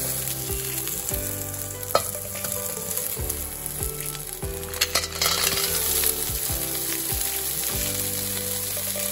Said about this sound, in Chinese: 稍微翻炒后就可以加入蛤蜊